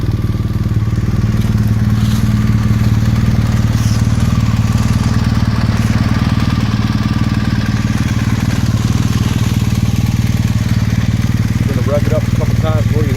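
BMW R1200RT motorcycle idling with its exhaust note steady and fairly loud, a constant low rumble holding evenly throughout with no revving.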